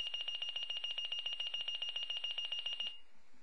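A Motorola Minitor VI pager sounds an alert programmed for the 288 and 800 tone pair: a loud, rapid, steady train of high electronic pulses lasting about three seconds, then cutting off.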